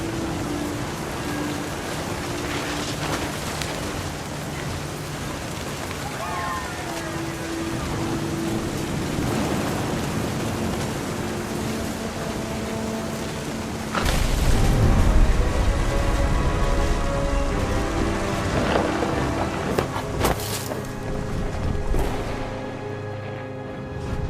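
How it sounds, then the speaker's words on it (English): Rain and rolling thunder from the video game What Remains of Edith Finch, a steady downpour hiss with a heavy thunder rumble swelling in midway and lingering, loud and close, with no speech. "Thunder sounded much too close and full of angry power."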